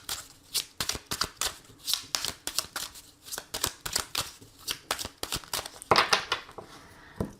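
Oracle cards being shuffled for a reading, a steady run of close, crisp riffling flicks in quick regular strokes, alone without talk.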